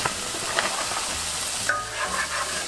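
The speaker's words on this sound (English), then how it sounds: "We're gonna do some olive oil, onion, garlic," Onion and garlic fry in olive oil in a pot, giving a steady close sizzle with occasional stirring scrapes throughout.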